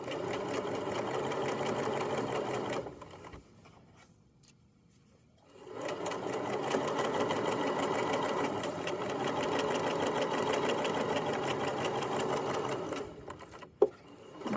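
A sewing machine stitches a seam on a Kwik Sew raglan-sleeve hoodie, a fast steady mechanical whir that stops for a short pause, then runs again before a sharp click near the end.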